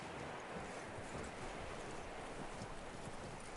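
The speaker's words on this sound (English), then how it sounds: "That looks like a decent horse." Horse hooves clip-clopping in the Red Dead Redemption 2 video game, a steady stream of close, busy hoof beats over windy, noisy outdoor ambience with no talk.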